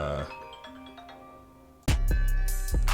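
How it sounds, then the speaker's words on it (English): A phone ringtone for an incoming call cuts in loudly and sharply, a repeating electronic ring that sounds close and clear over fading music. "I just had a phone call I gotta take"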